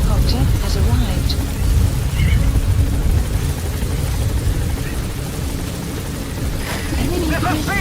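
Helicopter rotor drone from a support chopper arriving in Metal Gear Solid V: The Phantom Pain, a steady loud low rumble throughout with radio voices speaking over it.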